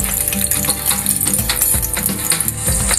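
Garlic frying in a pan during budget home cooking, with a steady dense sizzle and crackle running throughout, loud and close, punctuated by small clinks and scraping.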